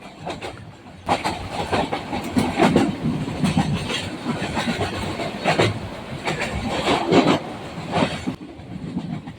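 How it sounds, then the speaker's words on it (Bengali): The Jamalpur Express passenger train runs from Dhaka toward Jamalpur near Dhaka Airport station, its carriage rumble swelling with rhythmic clickety-clack of wheels over rail joints, heard from inside at a moderate, steady level. "একের পর এক স্টেশন ফেলে আমাদের ট্রেন ছুটে চলেছে তার গন্তব্যের উদ্দেশ্যে"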